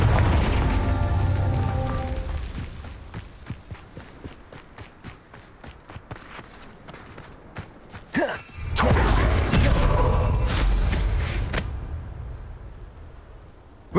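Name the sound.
Confringo spell blast, Hogwarts Legacy video game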